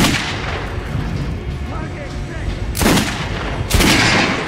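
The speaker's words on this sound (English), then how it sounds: "Try shooting for the center of the regular gun." Gunfire from a regular gun aimed at a target dummy in Metro Last Light Redux, a loud continuous rumbling layer broken by two sharp, heavy shots near the end, close and dominant.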